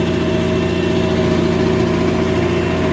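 A Kubota 5502 tractor engine running at steady revs while working heavy lake-bed clay in a field, a loud, continuous droning hum with a strong, even tone and no change in pitch, close by and alone.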